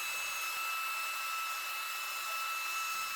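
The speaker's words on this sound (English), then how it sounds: "Then I give it a quick chamfer at the router table, and I move the bit down just a little because I wanted just the slightest chamfer on there" A router table hums steadily as a small chamfer is cut on a wood edge, a constant high-pitched whine, near and even, with faint bumps at the start and end.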